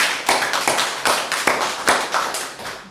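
A church congregation claps together at a Pentecost Sunday service, a steady group applause with rhythmic surges of hand claps, close and fairly loud, with no talking.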